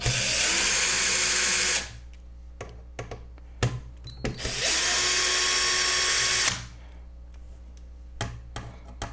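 A power drill drives screws in two loud, close bursts of whirring, each running a couple of seconds, with clicks, taps and small knocks of handling in between.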